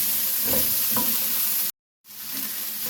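Vegetables and a medium-to-large potato sizzle steadily in a pan, with a few soft stirring scrapes, then a brief cut to silence before the frying resumes.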